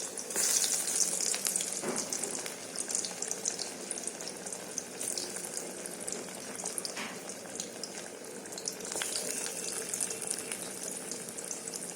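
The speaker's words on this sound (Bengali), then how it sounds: "এবার ভাজাগুলো ছেড়ে দেবো।" Continuous loud sizzling of pointed gourd and pumpkin slices frying in hot oil, with occasional clinks and stirring sounds, no voices.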